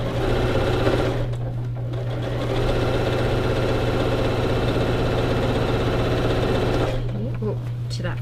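A sewing machine stitches baby quilt squares, running in a continuous, close, buzzing whir with a steady low hum and brief dips in between, while someone talks over it.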